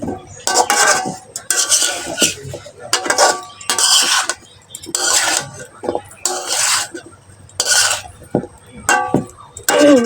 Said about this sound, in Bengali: ভালো করে কষাই নেব